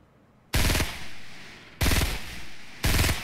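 Fortnite video game gunfire: three loud, sharp shots spaced about a second apart, each a sudden blast that trails off gradually.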